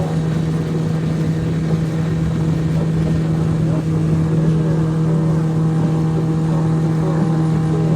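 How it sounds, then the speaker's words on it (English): Small dinghy driven by an outboard motor, a steady, loud drone with a strong low hum and water and wind noise spread over it, running continuously and close by with no break. "we're gonna take the dinghy for a nice little rip"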